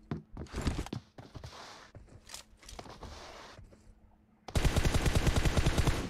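Rapid bursts of automatic gunfire in a team deathmatch video game fight, sharp repeated shots in clusters, then a loud sustained volley of fast rhythmic fire near the end.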